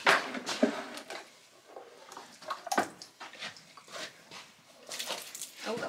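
A dog at a horse stable during the evening feed, heard as close, intermittent whimpers and snuffling sounds in short bursts, mixed with rustling and splashing, with no talking.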